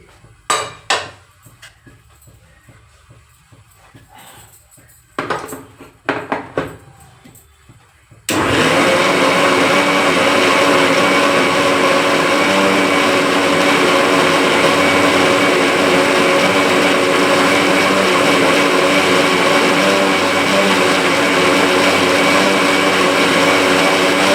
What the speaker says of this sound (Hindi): मिक्सी।